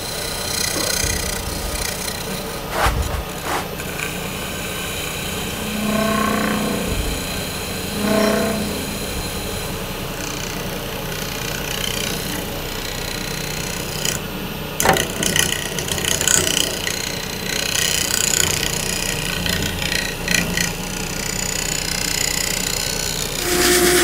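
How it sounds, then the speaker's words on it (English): A bowling ball turning on a wood lathe with the tailstock up for support, its surface slowly smoothed by a tool, giving a steady mechanical whir with irregular scraping and occasional sharp knocks. "Pick up the speed a little bit. Got my tailstock up for support. And now we're just going to slowly smooth out this surface."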